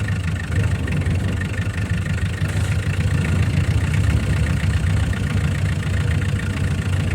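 A tractor engine idles steadily up close, a continuous low rumbling chug with no change in pace, loud and unbroken throughout.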